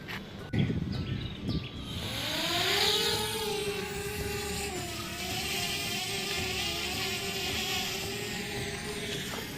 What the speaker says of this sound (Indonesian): hidup drone-nya.